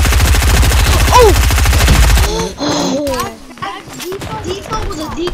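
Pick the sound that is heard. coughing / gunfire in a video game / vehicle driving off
gunfire in a video game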